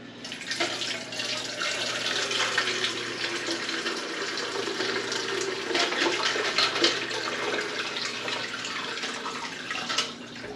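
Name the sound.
ice water poured through a strainer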